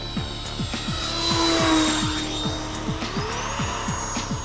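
A Freewing F/A-18 Hornet 90mm electric ducted-fan RC jet with full-span flaps comes in to land, its fan whine steady and fairly close, sweeping up and down through the approach, with a rapid rhythmic chopping pulse underneath.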